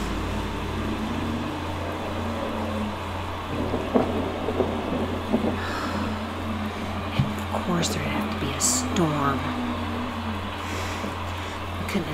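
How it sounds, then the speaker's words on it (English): A stormy night thunderstorm with steady rain and low rumbles of thunder, a constant ASMR-style backdrop with a few sharper cracks, while a voice speaks over it. "It had to be a stormy night, of course."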